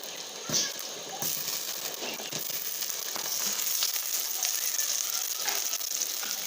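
Potatoes sizzling in hot oil in a pan while cooking a Bengali village-style fish and potato curry, a steady close crackle and hiss running throughout with a few sharper pops.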